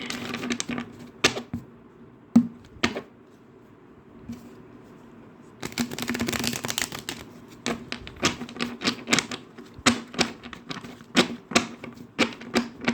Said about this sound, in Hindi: देखो कितने आवाज़ कर रहे कार्ड्स